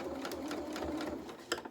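A sewing machine stitches trim onto a doll's reversible winter cape in quick, even bursts of needle chatter with a faint pause near the end.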